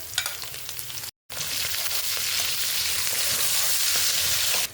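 Garlic, ginger, chili and onion sauté in oil for laing, a loud, dense sizzle that cuts out for a moment and then returns stronger and steady, with light scraping ticks.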